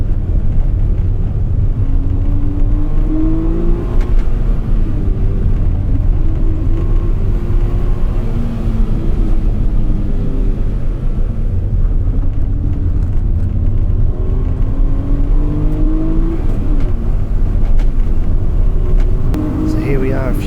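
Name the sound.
kei car driving laps on a wet race track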